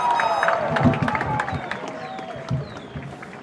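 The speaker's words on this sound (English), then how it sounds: "give yourselves a round of applause" A graduating high school class at a 2022 commencement applauds and cheers, dense clapping and whoops from a large crowd with voices rising through the din.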